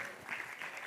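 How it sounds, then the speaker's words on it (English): Brief applause from a conference audience at an international English language teaching event, a soft, distant spread of clapping lasting under a second. "Give applause,"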